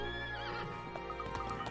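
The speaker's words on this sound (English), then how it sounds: "This horse is certainly spirited." Horse neighing in the Professor Layton vs. Phoenix Wright video game, a single whinny rising and trembling at the start, followed by a few soft hoof clops over a sustained game music background.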